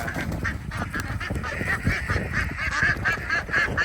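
Egg-laying ducks quack in a noisy, overlapping chorus on a farm in Nakhon Ratchasima, Thailand, several birds calling at once close by against a busy background.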